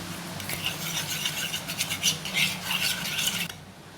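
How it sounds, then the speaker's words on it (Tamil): Soaked ground moong dal batter being mixed with cumin, asafoetida and salt for bonda: close, continuous wet rubbing and scraping of a spoon in a bowl, with irregular swishes that stop just before the end, with no talk. "ஜீரகம், பெருங்காயம், உப்பு போட்டுக்கிறோம், கலந்து கொடுக்குறோம்."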